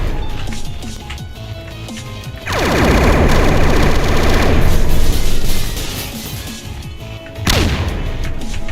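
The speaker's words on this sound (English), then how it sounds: "Or maybe it is just a big explosion." Big explosion in the video game Cube Combination, a loud roaring burst with crackling debris that swells, holds for a few seconds, then a second sharp blast hits near the end.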